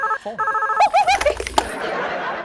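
Telephone ringing in a Hindi TV drama scene, a synthetic electronic ringtone melody with a short burst of trilling tones, fairly loud, fading into room noise.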